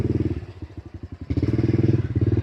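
A 2021 Honda CRF 110 kids' 110cc dirt bike engine runs close by with a fast, pulsing thump, idling lower briefly and then revving harder before cutting off abruptly.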